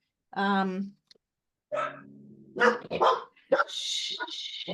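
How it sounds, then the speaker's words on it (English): A neighbour's dog barks a few times nearby at close range, short sharp yelps that come and go in bursts, with some voiced sounds in between. "She heard somebody's dog."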